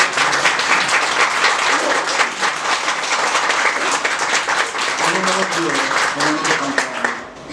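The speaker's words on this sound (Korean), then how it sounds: "저분들을 위해서 박수 한번 해주시기 바랍니다." A church congregation at a Korean revival service claps together in a full, sustained burst of applause that continues strongly, with a few murmuring voices underneath before tapering at the end.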